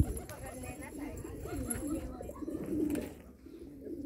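Pigeons, including white ones, coo repeatedly at a village home, low throaty calls close by under people chattering.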